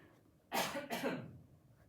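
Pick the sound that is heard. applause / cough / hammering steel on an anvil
cough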